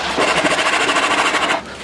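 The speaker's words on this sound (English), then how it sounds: "I'm going to go ahead and just cut them down to the depth I want" A power saw cuts notched pallet wood pieces to depth, with a loud, close, rapidly pulsing buzz that runs steadily for about a second and a half before stopping abruptly.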